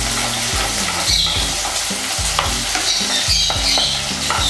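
Small onions sautéing for Chettinad crab masala, sizzling steadily in a pan while a spoon stirs and scrapes in repeated rhythmic strokes, close and fairly loud, with no talking.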